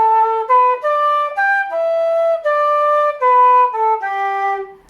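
A traditional flute melody phrase, a string of clean sustained notes moving up and down with slight breaks between them, played close and unaccompanied.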